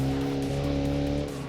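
A car in the video game Automation drifts with a steady, high-pitched tire squeal over a droning engine tone that shifts pitch slightly partway through.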